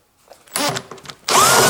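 Impact driver loosening screws on a washing machine during disassembly: a short quiet lead-in, then a loud rattling whir of a few bursts, ending in a sustained close-up buzzing run.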